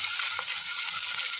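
Chopped onion sautés in oil with garlic over medium heat, a brief, steady close sizzle with a couple of soft stirring touches.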